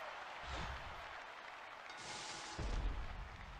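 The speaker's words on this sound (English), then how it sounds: "The fireworks in the background." Fireworks go off in the background of the WWE Champions wrestling video game: a run of muffled booms and crackling bursts, with a heavier thump near the end, over a noisy, roaring bed.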